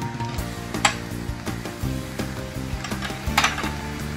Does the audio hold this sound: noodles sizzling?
yes